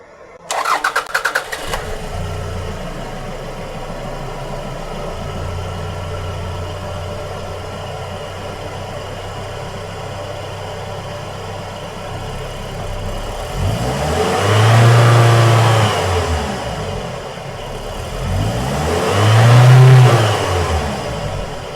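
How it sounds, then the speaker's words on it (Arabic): A petrol car engine cranks and catches after new spark plugs and ignition wires are fitted, settling into a steady idle before two strong revs swell and fall near the end, loud and close with no talk. "بعد تركيب الأسلاك نبدأ نشغل السيارة حتى نتأكد من العمل"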